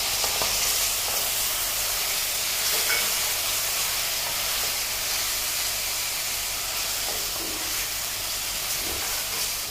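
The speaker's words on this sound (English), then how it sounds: "Let's add the tomato pieces" Tomato pieces hit minced mutton in a hot pan, producing a loud, steady hissing sizzle that holds evenly without pause from start to finish.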